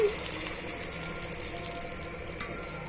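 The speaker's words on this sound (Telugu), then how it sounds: "ఇప్పుడు ఇందులోనే తగినంత వాటర్ పోసుకోవాలండి" Water pours steadily into a pan of cooking tomato pieces for a potato and eggplant masala curry, a soft rushing splash, ending in a brief clatter near the close.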